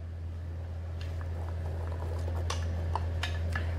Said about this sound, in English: we're just gonna fry that a little bit for a little while, and I'm gonna throw the onions in there with it